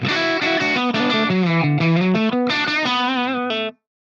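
Distorted, fuzzy electric guitar with a swirling phased character plays a run of sustained notes, loud and close, ending abruptly after a few seconds.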